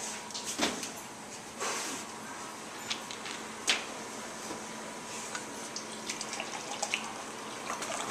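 100 milliliters of water poured into a cup, a soft, faint trickle and splash with a few small drips and light taps, close by and quiet.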